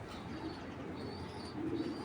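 Racing pigeons from a club loft coo in a low, steady murmur, with a slightly louder burst of cooing near the end and no talk.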